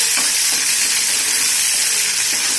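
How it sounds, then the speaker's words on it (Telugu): Garlic and coriander paste fries in a mix of oil and ghee, giving a loud, continuous close-up sizzle and hiss with faint stirring underneath and no talk. "వేసి వేయించుకోవాలి నేను ఇందులోనే నూనెతో పాటు కొంచెం నెయ్యి కూడా వేస్తున్నాను"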